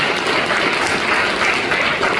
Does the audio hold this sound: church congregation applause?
yes